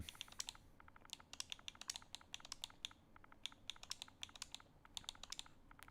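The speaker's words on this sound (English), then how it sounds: "You guys can probably hear me furiously typing on my controller." Rapid clicking of fast typing on a PS4 controller's keys, a dense, uneven patter of light taps close by, faint overall and continuing without pause, with no talking.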